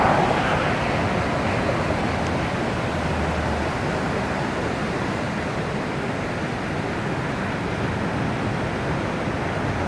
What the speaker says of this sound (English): Okay, more waves.